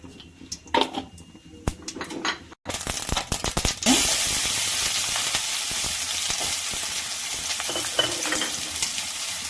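Mustard seeds pop in hot oil, crackling and sizzling loudly with sharp spattering bursts and a few clinks of a pan at first.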